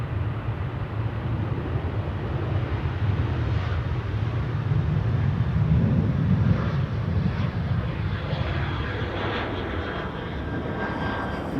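A KLM airliner rolls past at Amsterdam Schiphol airport, a broad low jet-engine rumble that swells toward the middle and then slowly fades, with no speech.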